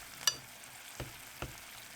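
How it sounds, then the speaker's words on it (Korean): Squid and squid legs fry gently in butter in a pan, a soft low sizzle broken by three faint clicks or taps, quiet and close with no talking. "오징어 다리도 하나 같이 구웠습니다."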